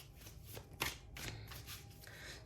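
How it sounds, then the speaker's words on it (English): Tarot cards are shuffled in a series of soft, papery riffling bursts with brief pauses between them, close and fairly quiet, with no talking. "let's just see what I can get from my tarot cards as I shuffle for, clarifications"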